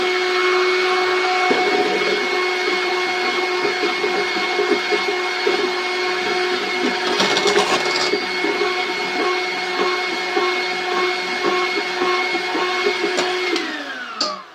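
An electric hand mixer whirs steadily, beating heaped instant coffee with water for a chocolate and dried-fruit cake, a loud continuous motor whine with faint clinks that runs for a long stretch before winding down at the end.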